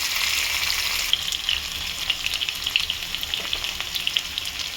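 Potatoes and onions fry over a high gas flame, giving a close, continuous crackling sizzle with scattered pops and no voices.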